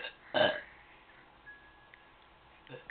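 A girl lets out one short, loud burp near the start, followed by quiet room noise and a few faint clicks.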